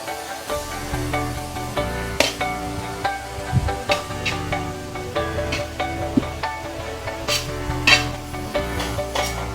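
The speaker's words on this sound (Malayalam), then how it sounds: "ഇനി ഇതിലോട്ട് നമ്മുടെ ചീരയുടെ ഇല അരിഞ്ഞത് ഇതിലേക്ക് ഇട്ട് കൊടുക്കും" Chopped spinach leaves go into a frying pan with prawns, sizzling steadily at close range while a utensil clinks and scrapes against the pan in scattered taps.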